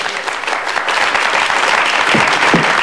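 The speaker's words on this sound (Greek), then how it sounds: "Ένα χειροκρότημα για τους αεροπόρους." Audience applause at a Greek morning event honouring airmen, dense steady clapping throughout the short stretch, loud and close.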